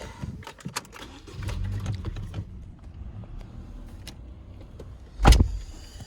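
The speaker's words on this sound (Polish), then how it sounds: "elektrycznie sterowane szyby razy 4" Electric power windows on a 2013 Honda Civic IX 1.8 Lifestyle running on LPG, heard as a low motor whir lasting about a second amid soft cabin clicks, followed later by a short louder thump; no talking.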